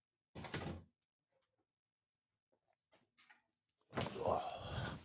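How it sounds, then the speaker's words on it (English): A door being opened to let a dog out, heard as two short scraping, sliding bursts separated by quiet with a few faint clicks and rustles between them. "You want to open the door?"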